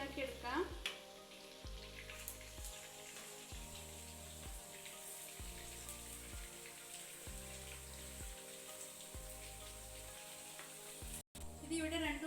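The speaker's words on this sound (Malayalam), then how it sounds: "ഇനി നമുക്ക് മറ്റേ സൈഡും ഫ്രൈ ആക്കി എടുക്കാം. തിരിച്ചിട്ട് ഫ്രൈ ആക്കി എടുക്കാം." Chilli chicken pieces sizzle steadily in a pan, a continuous close frying hiss with faint stirring, while a low repeating music-like pattern runs underneath and a brief dropout occurs near the end.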